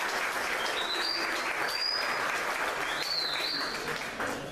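Applause for a sixth-grade pupil at a primary school closing ceremony, a steady wash of clapping from a crowd with a few thin high whistles or chirps over it.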